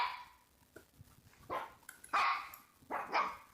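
A dog barks close by in a few sharp, separate barks with short gaps between them, heard alone without talk.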